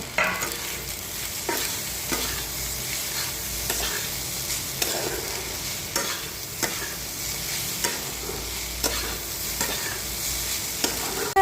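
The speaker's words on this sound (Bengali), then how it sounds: "দিয়ে ভালো করে নাড়িয়ে চাড়িয়ে নেব" A spatula stirs sauce into frying food in a pan, scraping in regular strokes over a steady background sizzle, close and alone without any talking.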